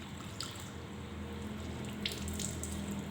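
Running water from a tap rinses cement residue off granite tile, a steady moderate splashing wash with a low hum beneath and a few brief drips or clinks near the end.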